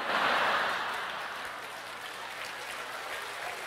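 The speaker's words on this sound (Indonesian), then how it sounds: "Nggak usah tepuk tangan." A church congregation breaks into brief clapping that swells at the start and then thins into a softer, fading patter, fairly quiet and heard from a distance.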